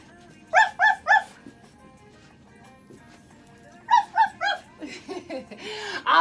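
A voice imitates a dog barking, giving two quick sets of three loud, close "ruff" barks, followed by lighter vocal sounds during children's storytime.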